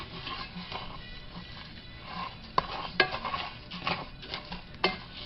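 Rice browning in a pan for Mexican rice, a soft, quiet sizzle with scattered clinks and scrapes of a utensil stirring against the pan, close and without speech.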